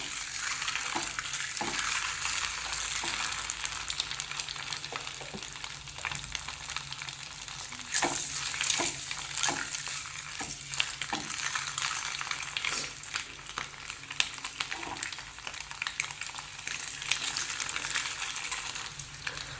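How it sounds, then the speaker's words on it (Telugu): Eggs fry in ghee in a pan for a dhaba-style egg gravy: a continuous bright sizzle runs throughout, with scattered scraping and clinking as they are stirred. "ఎగ్స్ని ఒక 2-3 మినిట్స్ బాగా ఫ్రై చేసుకుందాం."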